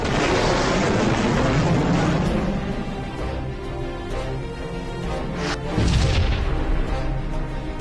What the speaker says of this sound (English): Our missiles are away!